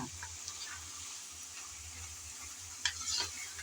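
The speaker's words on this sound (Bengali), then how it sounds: "আমি আবারও কিছুক্ষণ পর এসে নেড়ে চেড়ে ভালোভাবে মিশিয়ে নিচ্ছি" Red amaranth greens (lal shak) are stirred in a pan over the stove, soft scraping of a spoon against the pan under a faint steady sizzle, with a slightly louder clatter near the end.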